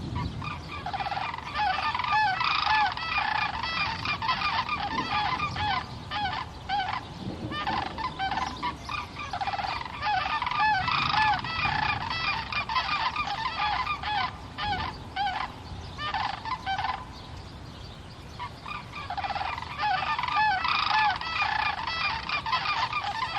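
Cranes calling in the wild with loud, ringing, far-carrying voices, a dense chorus of repeated honking cries that continues almost without pause.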